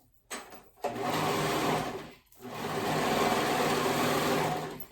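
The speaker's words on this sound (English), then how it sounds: "I'm gonna go ahead and sew those raw edges." A sewing machine stitches the raw edges of a sailor dress, close and loud. Two sustained bursts of fast, even whirring run for about a second and then roughly three seconds, with a brief pause between them.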